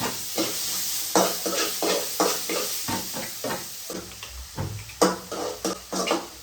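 Onions sautéing in a pan for a tomato gravy, with a steady sizzle broken by repeated scraping and clattering stir strokes, loud and close, with no talking.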